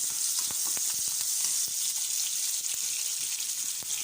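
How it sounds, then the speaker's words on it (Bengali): Chopped onion, green chili and garlic frying in oil, a steady broadband sizzle with occasional sharp crackles and pops, close and continuous throughout, no talking. "পেঁয়াজ কাঁচামরিচ আর রসুন একবারে কেটে নিয়েছি এটা দিয়ে দেবো এবার এটা একটু ভেজে নিচ্ছি"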